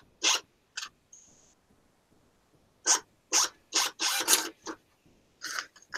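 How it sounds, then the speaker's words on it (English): A receipt printer prints out a picture in a series of short, loud, close buzzing and rasping bursts, some clustered together, separated by quiet gaps, with no voices. "You can print it from a receipt printer."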